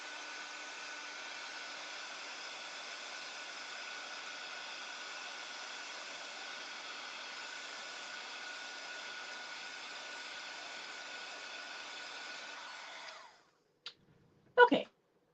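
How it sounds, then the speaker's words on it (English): A craft heat tool blowing hot air to dry slow-drying stamping ink, a steady whirring hum that runs at even volume before cutting off, followed by a couple of brief clunks. "I'm going to zap this with the heat tool"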